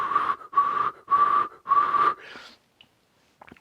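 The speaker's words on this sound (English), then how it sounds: "Whistle." Someone whistles up close: four clear, sustained notes in a steady rhythm, then a softer trailing note, followed by near silence.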